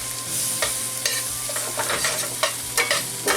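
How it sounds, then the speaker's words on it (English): Shrimp and salmon sauce being stirred after flour is added: a spoon scrapes the pan in repeated, irregular strokes over a steady sizzle, close and fairly loud. "we're going to try to get that flour dissolved, you know, mix it all in there"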